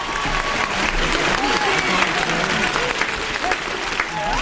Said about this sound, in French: On peut s'applaudir légèrement.